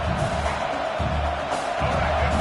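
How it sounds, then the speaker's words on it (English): A football stadium crowd in the Dolphins vs Chargers game roars steadily as it cheers on the defense during a red zone stand, a dense, loud wall of crowd noise throughout. "And here comes the noise. This crowd is trying to inspire this defense to make a big red zone stop."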